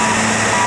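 Loud, close reversing beeper from a CAT 928G loader loading sand into a 1991 Ford L9000 plow and sand truck, a steady tone over engine rumble across a brief moment.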